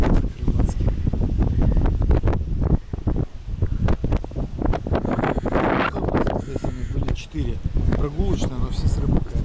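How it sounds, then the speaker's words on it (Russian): Gusty wind blowing in from the sea buffets the microphone in a steady low rumble, with people talking throughout, in Anapa. "Ветер с моря"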